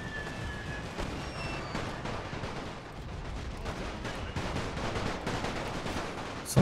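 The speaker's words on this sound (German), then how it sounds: "Das MG feuert schön fröhlich vor sich hin" A machine gun in The Great War fires in rapid continuous bursts amid distant battlefield rumble, a fairly faint, dense rattle with scattered louder reports and no speech.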